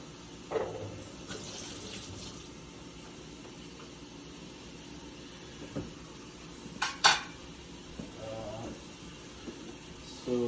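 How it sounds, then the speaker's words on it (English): A plate is rinsed under a running kitchen tap, with steady water flow broken by a few sharp clinks and knocks of dishware against the sink, close and moderately loud. "Just washing the plate really quick."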